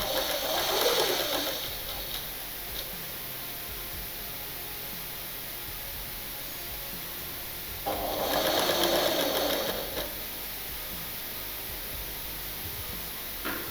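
A sewing machine stitching a blouse, two bursts of fast, even whirring about two seconds each, separated by long quiet stretches of low room hiss.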